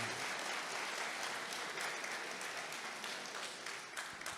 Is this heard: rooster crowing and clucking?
no